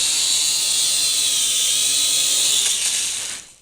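A JJRC H5P quadcopter's small motors whine loudly and steadily at close range as the drone comes in to land on a table, the buzzing holding even before cutting off abruptly at the end.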